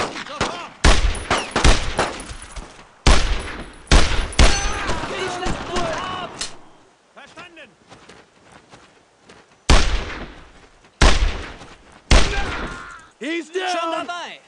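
Suppressing gunfire rattles across a Normandy 1944 battlefield in Brothers in Arms: loud repeated automatic bursts separated by short pauses, with shouted voices in between.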